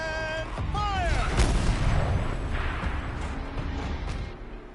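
A turret fires artillery in Horizon Zero Dawn, a heavy booming blast followed by rumbling and a sweeping whine over a busy game soundscape.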